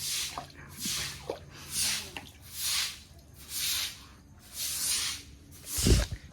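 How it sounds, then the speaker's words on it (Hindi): A small floor wiper pushes rainwater out of a flooded house after heavy rain, giving repeated slow swishing wet strokes, about six in steady rhythm, close by and moderately loud, with one heavier splash near the end. "तो वैसे प्रयास भी अपना छोटा सा वाइपर पानी निकालने लग रहा है।"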